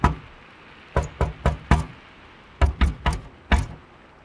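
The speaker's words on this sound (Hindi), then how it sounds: "दरवाजे पर कोई खटखटा रहा है।" Sharp knocks on a door in quick bursts: a single rap, then two rapid groups of four, followed by one last knock. Close and clear, no voices.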